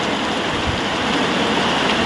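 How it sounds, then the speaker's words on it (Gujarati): Heavy rain pouring down in a village in Gujarat, a dense, steady roar of falling water, close and unbroken for the whole stretch, with no voices. "હવે હે ને વરસાદ વધતો જાય છે"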